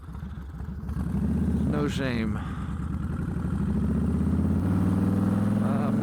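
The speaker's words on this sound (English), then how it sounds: "I drive a 2006 Heritage Softail Classic." A 2006 Harley-Davidson Heritage Softail Classic motorcycle with 14-inch ape hanger bars runs with a steady, loud low engine rumble throughout, while a rider talks over it.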